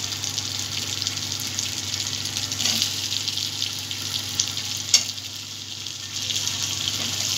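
Potatoes frying in a pan for a cabbage curry with fish head, giving a steady, even sizzle and hiss close by, with a couple of faint clinks, no talking.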